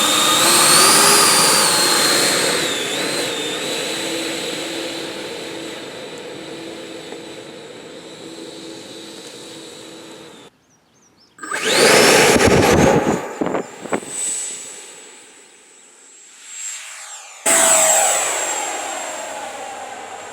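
An FMS Platinum 2100 electric ducted fan model jet fitted with an afterburner light flies overhead with a loud, high whine. The whine rises and falls as it passes, with a brief drop, gusty rushes and a closing high-pitched pass.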